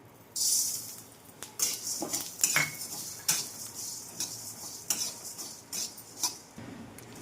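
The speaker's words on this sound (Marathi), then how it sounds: "आपण मस्त मध्यम गॅसवरच धने भाजणार" Coriander seeds dry-roast in a pan over a medium gas flame. They rattle and scrape against the metal in irregular bursts as they are stirred, close and clear, with faint ticking between strokes.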